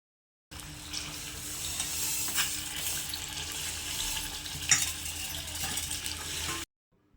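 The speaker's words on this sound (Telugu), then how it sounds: "వేసి బాగా ఎర్రగా వేయించాలి." Pieces of chicken fry in hot oil in a pan until reddish-brown, giving a continuous sizzling hiss that holds steady for several seconds and then stops abruptly.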